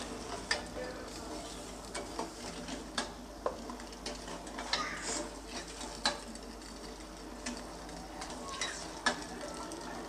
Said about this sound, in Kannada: ಈಗ ಸಕ್ಕರೆ ಹಾಕಿ ಚೆನ್ನಾಗಿ ಮೀಡಿಯಮ್ ಫ್ಲೇಮಲ್ಲಿಟ್ಟು ಸಕ್ಕರೆ ಕರಗೋವರೆಗೂ ಗೂರಾಡ್ತಾ ಮಿಕ್ಸ್ ಮಾಡ್ತೀನಿ